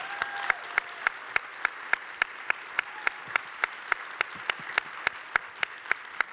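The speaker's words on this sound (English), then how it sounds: "so a little round of applause for them." Evenly spaced single claps ring out at a steady, brisk rhythm for about six seconds as an evening audience applauds the Shōgun sound team, each clap sharp and distinct over a low room hum.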